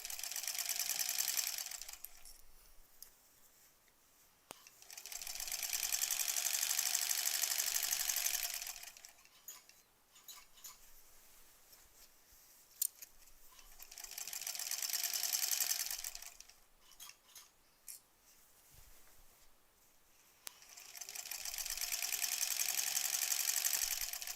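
A sewing machine stitches rows of a granny squares quilt, running in four long bursts of steady whirring with short quiet pauses between them, close and fairly loud.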